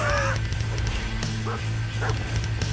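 A dog yips, whimpers and barks a few times in Fallout 4 gameplay, short sharp calls over a loud droning game soundscape with low rumbling.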